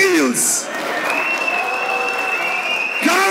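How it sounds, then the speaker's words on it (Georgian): Loud, dense applause from a crowd at a grand prix final, cheering on a group of young competitors, with shouting voices rising over the clapping. "ბიჭები, ნახდათ იმსახურებენ აპლოდისმენტების ქუხილს."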